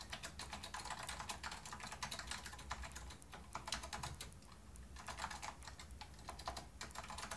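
A vintage Apple ADB keyboard, connected through an Arduino, is typed on in steady, rapid clicky keystrokes. The clatter is close and continuous, with brief pauses and no talk.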